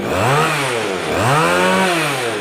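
A small two-stroke engine on a Japanese Komatsu Zenoah brush cutter revs up and falls back twice, a buzzing, loud motor close by with no talking.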